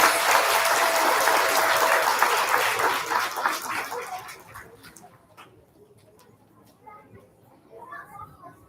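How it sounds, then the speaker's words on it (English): Audience at an elementary school student recognition event applauding second grade award recipients, loud steady clapping that fades out after a few seconds, followed by quiet room noise and faint voices. "Let's give these second grade award recipients a round of applause."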